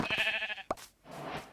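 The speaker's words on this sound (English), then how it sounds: "killed some sheep." A sheep bleats twice in Minecraft, a wavering nasal cry, then a brief thump and a softer breathy second bleat, close and alone.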